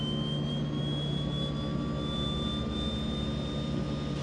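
Simulated left engine of a DHC-6-300 Twin Otter spooling up in FSX, a steady turbine whine with a slowly rising high tone over a constant roar, loud and alone.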